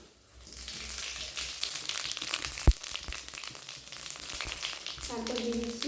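Kasuri methi and shahi jeera hit hot oil with sugar already browned in it, giving a loud bright sizzle and crackle that starts suddenly, with a voice briefly heard near the end.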